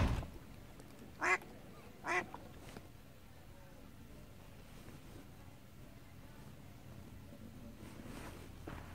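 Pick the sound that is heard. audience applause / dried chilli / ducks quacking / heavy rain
ducks quacking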